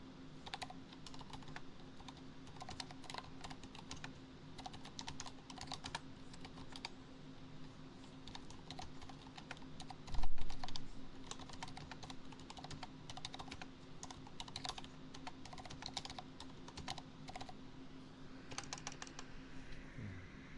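Typing on a quiet computer keyboard with tall keycaps, a steady stream of soft close key clicks in an indoor setting, with one brief low bump partway through and no talk.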